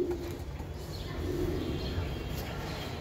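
Giribaz racing pigeons coo softly in a loft, low murmuring calls running steadily under a busy background with faint rustling.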